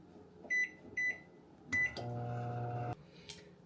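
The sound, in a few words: microwave oven running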